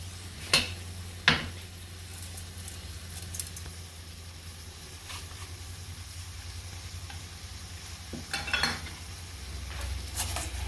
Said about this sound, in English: So we're mixing all the pickling spices all around.